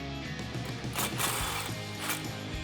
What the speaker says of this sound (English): grab your 13 socket, in my case I'm gonna use the swivel again, and tighten these down